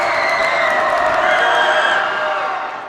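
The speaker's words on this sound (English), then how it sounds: "The crowd is deafening, maybe even getting louder." A high-school boys basketball crowd at a Section 6AA game roars loudly and continuously in a packed gym, a dense wall of cheering that holds steady and then eases slightly at the end.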